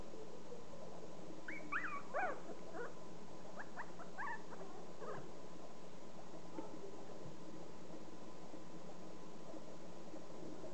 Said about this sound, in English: three and a half week old puppies